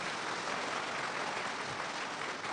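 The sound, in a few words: congregation clapping hands in church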